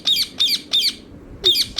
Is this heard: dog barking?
no